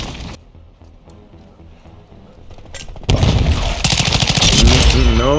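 Gunfire from the Gun Fight shooter game: quiet ambience at first, then from about three seconds a loud, dense burst of rapid shots and blasts that keeps going to the end. No one speaks.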